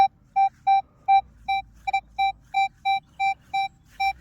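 A Minelab Equinox metal detector with a small coil gives a string of short, evenly spaced target-tone beeps, about a dozen clear tones pulsing steadily close by over a quiet background.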